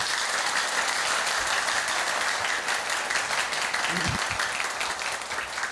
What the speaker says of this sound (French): nous applaudit très fort, s'il vous plaît